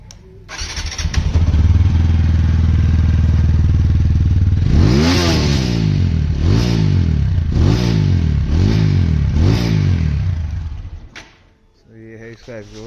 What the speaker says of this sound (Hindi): एग्जॉस्ट का जो साउंड है वो मैं सुना देता हूँ आपको